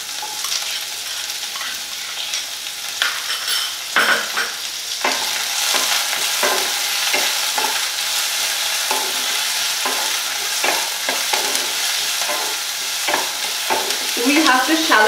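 Chopped onion shallow-fries in a pan with a steady sizzle while a utensil stirs it, giving off frequent scraping clicks throughout.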